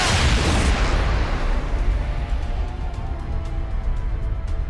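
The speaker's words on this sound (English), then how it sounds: "That was a nice explosion." A large explosion in the video game Mass Effect erupts with a loud, deep boom at the start, then rolls away into a long rumbling decay with scattered debris crackles.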